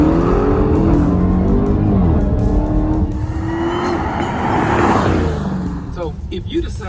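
A 797-horsepower 2021 Dodge Charger Redeye Widebody launches hard off the line with launch control, its engine roaring loud and close with rising revs throughout, under a voice.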